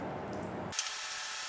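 Water runs from a tap to be added to a sweet filling made with Araucaria pine-nut flour for a tart, a steady close hiss that turns brighter and splashier midway as the flow changes.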